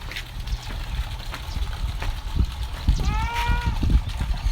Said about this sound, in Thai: มาพี่แกะน้อย